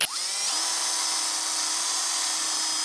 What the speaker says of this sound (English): Now the last thing I'm going to do here is drill a small hole in this end